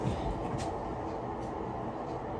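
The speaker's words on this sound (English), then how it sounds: "Oh, the wash machine loud." A washing machine runs loudly nearby, a constant churning rumble with a broad hiss and no voices.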